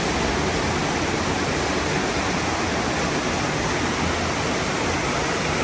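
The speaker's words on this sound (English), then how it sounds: "It is the nice little waterfall" A small waterfall in the Kanarra Falls slot canyon in Utah gives a constant, dense rushing roar, close and loud, with no voices.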